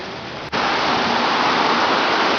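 Heavy rain pours onto a Vancouver street in a dense, steady hiss, close and loud, holding even after a brief dip at the start.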